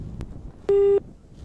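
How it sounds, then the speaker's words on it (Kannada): A single steady electronic beep of a disconnected phone call sounds for about a third of a second, loud and clean against quiet room noise, with a faint click just before it. "ಫೋನ್ ಕಟ್ ಆಯ್ತು"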